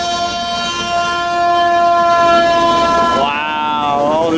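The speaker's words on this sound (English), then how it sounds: "they're really building some speed with them being real steam trains" A real steam locomotive runs on the small railway at the Wiener Prater amusement park, a loud sustained whistle tone sounding over rumbling running noise, then warbling and fading toward the end.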